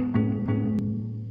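Chopped electric guitar loop from a sample pack, with one slice repeated into the next beat, giving a sustained tonal phrase that restarts with a couple of clear re-triggered attacks and one short bright transient, steady and alone.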